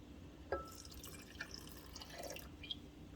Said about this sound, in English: now we're gonna add our water to our starter